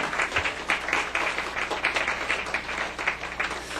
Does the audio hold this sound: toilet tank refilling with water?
no